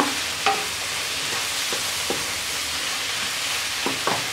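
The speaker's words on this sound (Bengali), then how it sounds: "এবার একটু নেড়ে দেব। ডিমটা ভালো করে মিক্স করে দেব।" Egg and chopped bottle gourd stirred in a frying pan, a steady close sizzle broken by several soft scraping knocks of the spatula, no talking.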